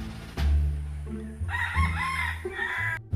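A rooster crows loudly nearby on a farm, a drawn-out cock-a-doodle-doo over low rumbling background noise, with other fowl clucking.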